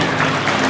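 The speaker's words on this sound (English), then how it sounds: "Give yourself a round of applause." An elementary school assembly audience claps in a short, dense burst, a steady wash of many hands close by with no pause.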